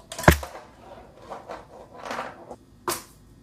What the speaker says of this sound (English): So the rice is back in the snare drum,